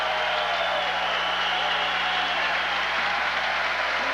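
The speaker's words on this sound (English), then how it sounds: "And the crowd here erupts" A high school basketball crowd roars in a gym, a steady dense wash of cheering and applause that holds at one level throughout, with no clear speech over it.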